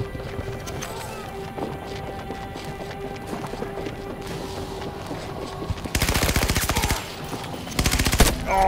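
Gunfire from a shotgun in the Battlefield 2042 video game: after a quiet stretch of game ambience, two loud, dense bursts of rapid shots crack out near the end, with a short gap between them.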